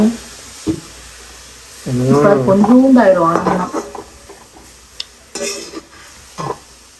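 Greens with dried fish and a little salt frying in a kadai, with a sizzle under repeated close-up stirring and scraping of a ladle against the pan, loud bursts between quieter pauses.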